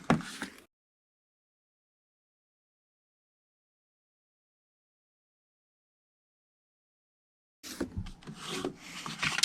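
Scored cardstock for a diagonal-sided gift box is folded and burnished, heard as brief dry rubbing and scraping strokes at the start and again near the end, with silence between.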